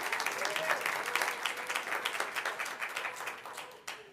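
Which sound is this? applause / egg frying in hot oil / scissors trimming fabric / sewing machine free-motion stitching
applause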